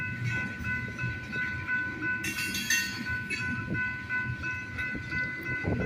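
A train rolls through the small town of Garretson, South Dakota, with a steady loud rumble of wheels and cars, sustained horn tones held above it and a brief brighter burst midway.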